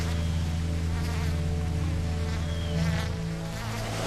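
A dense swarm of black flies in the Ontario outdoors, buzzing loudly and steadily as a continuous close-up drone with no talk.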